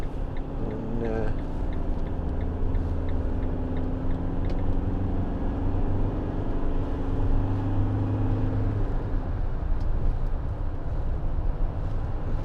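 A Citroen Relay 2.2 HDi 35 Enterprise L3H2 panel van drones along on the road from inside the cab, its diesel engine pitch shifting through a gear change, with someone talking over the steady rumble.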